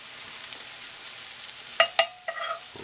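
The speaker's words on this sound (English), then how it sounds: "When you caramelize them like this, you saute them" Shallots sautéing and caramelizing in a pan for creamed spinach, a steady soft hiss of frying close by, broken near the end by a few quick louder crackles and spatula stirs.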